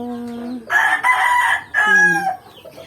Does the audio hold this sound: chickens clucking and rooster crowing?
yes